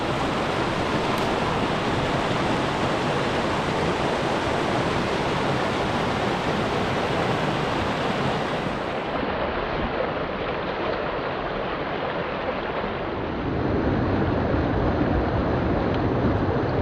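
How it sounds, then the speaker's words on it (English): A small Algonquin creek rushes loudly and steadily close by, a dense, continuous broadband water roar with no voices, shifting slightly in tone partway through. "Making a lot of noise for such a little creek."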